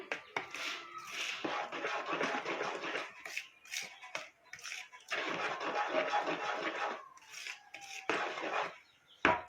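A spoon stirs carrot cake batter in a bowl after baking powder is added, giving close, scraping, sloshing strokes in uneven bursts with brief pauses.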